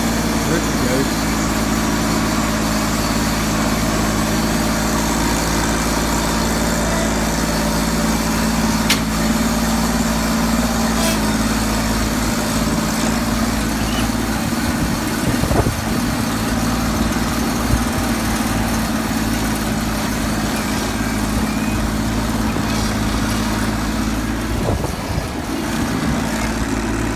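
An engine idling steadily after a cold start, a steady low rumble running unbroken throughout, with a person talking over it now and then.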